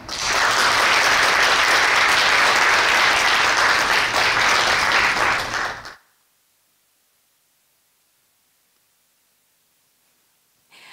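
Loud, dense audience applause in a church lecture hall as guests, a journalist and a pastor, are welcomed to the stage, lasting about six seconds before cutting abruptly to near silence.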